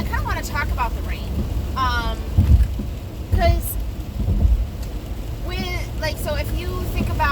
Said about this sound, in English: It's quite rainy this morning.